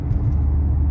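Deep, steady exhaust resonance from a Volkswagen Golf 7R with an aftermarket exhaust while cruising on the road, a loud continuous low rumble filling the whole moment without any voices.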